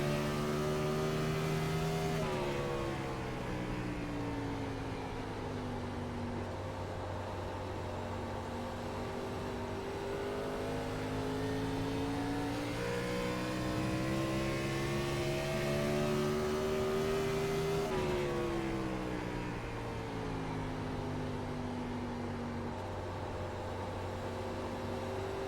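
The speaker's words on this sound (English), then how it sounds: "Such a good sounding car." A Gen 4 stock race car engine in the iRacing simulator at New Hampshire drones continuously at high revs, its pitch dipping and climbing as the car slows and accelerates through the corners, loud and close with no talk.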